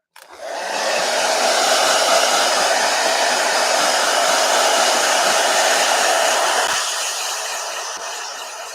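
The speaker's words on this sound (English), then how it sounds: "Blow dryer." A blow dryer runs steadily at close range, drying an acrylic gouache painting. It is a loud, continuous whooshing hiss that starts abruptly and holds for several seconds before easing slightly at the end.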